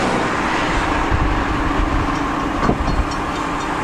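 A train rumbles steadily nearby with a constant low roar and faint rail clatter, broad and continuous throughout.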